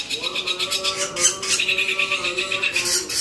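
A pair of young Bali mynas calls among other caged birds: close, raspy chirps and squawks, with repeated tonal notes over a continuous background of bird noise.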